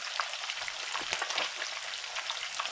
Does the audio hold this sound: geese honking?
no